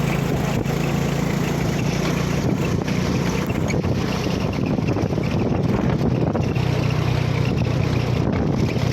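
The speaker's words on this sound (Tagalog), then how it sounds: "Nandito na po tayo sa Pantalan. Pier ng Dapitan." Boat engine and wind at the pier of Dapitan port, a steady low droning hum with constant wind buffeting the microphone and a broad wash of water noise, continuous and fairly loud throughout.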